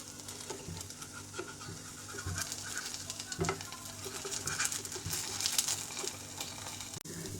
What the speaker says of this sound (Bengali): এখন আমি উল্টে দেব, খুব সাবধানে আমি উল্টাবো।